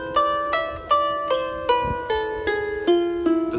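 A plucked or struck instrument plays a musical scale reconstructed from Hebrew cantillation marks. Ten clear, separate notes step down one after another at an even pace, each decaying before the next. It is soft and close, with no voices.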